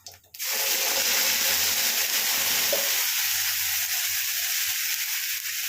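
Spice paste goes into hot oil with spluttering cumin for potol dalna, bursting into a loud, close sizzle that settles into steady frying with stirring.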